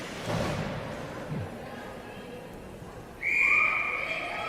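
A referee's whistle blows sharply and briefly during a ringette game in an indoor rink, heard over crowd noise and arena ambience.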